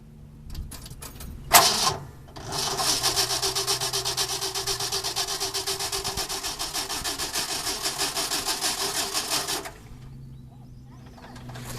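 A 1968 Ford F250 engine turns over and runs, a sharp start followed by a steady, loud, rhythmically pulsing idle for several seconds before cutting off, with faint birdsong in the background.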